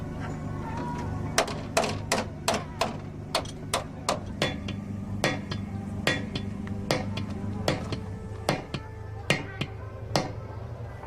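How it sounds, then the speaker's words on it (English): A hammer bangs on the wheels and guards of drift cars in the pits at a drift battle event, sharp irregular metallic strikes over a steady engine drone. "The number one repair tool at an event like this is a hammer."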